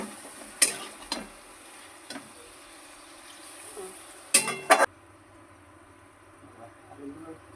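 Chicken is stirred in a pan as it cooks, with a few sharp spoon clanks and scrapes over a low, steady background sizzle. The scrapes come in brief bursts, with quieter stretches between them.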